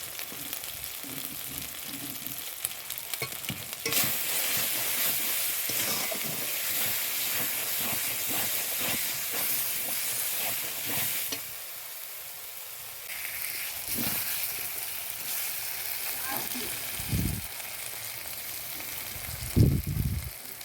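Spices and chui jhal sizzle and fry in hot oil for a chicken curry, a steady broad hiss with bursts of louder crackle and the occasional stir, close and continuous throughout with no talk.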